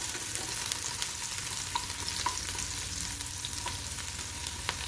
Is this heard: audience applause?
no